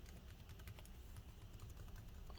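Rapid, steady key presses on the built-in keyboard of an HP Spectre x360 13-ae convertible laptop, clicking closely and continuously throughout without any talk.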